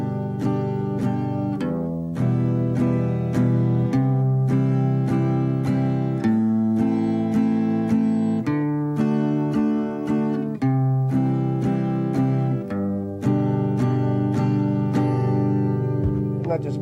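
An acoustic guitar strums a chord progression with single bass notes picked between the chords in a steady, moderate rhythm. The playing is close and clear throughout.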